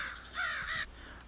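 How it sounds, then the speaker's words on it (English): Crows cawing in a horror short film: two or three harsh, close caws in quick succession, clear and alone. "The crows."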